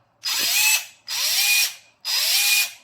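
A SATA electric screwdriver motor, lacking an electronic stop, whirs in three evenly spaced bursts, each a loud, steady whine lasting under a second with a ratcheting buzz.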